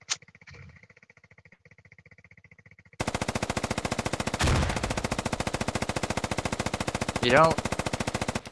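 Video game machine gun with a drum magazine hammering out a long sustained burst, loud and close, following quiet near-silence and a brief spoken word, with a rising whine and thump mixed into the firing.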